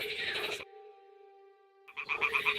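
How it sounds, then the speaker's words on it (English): Toads croak at a nest in Kingdom Come: Deliverance II, a steady pitched croaking drone held for over a second between bursts of busier game ambience, moderately loud with no voices. "the toads are croaking here"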